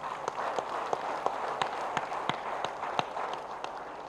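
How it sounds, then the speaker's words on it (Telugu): An audience at a rural meditation victory celebration claps in a steady rhythm, faint and somewhat distant, with sharp beats evenly spaced about three per second. "ఈ రోజున గట్టిగా చప్పట్లు కొడదాం వారికి."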